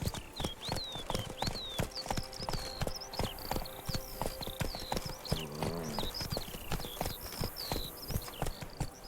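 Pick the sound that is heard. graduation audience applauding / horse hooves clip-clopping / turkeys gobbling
horse hooves clip-clopping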